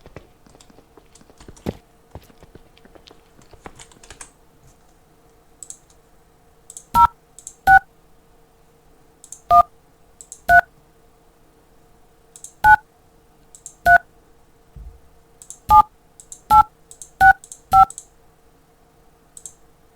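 A telephone number being dialed in the video game Nova Life: a run of short, clear keypad tones, single and in quick pairs, with faint clicks and a quiet stretch before the first tone.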